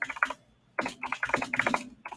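Rapid bursts of typing on a computer keyboard, keys clattering in quick clusters separated by brief pauses, close and fairly loud with no talking.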